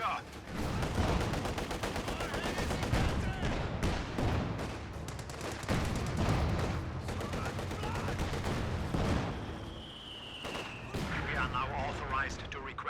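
Machine gun fire from LMG Grenadier squads in the real-time strategy game Company of Heroes 2, a 2v2 match, with dense rapid bursts and artillery-like booms running throughout under steady commentary.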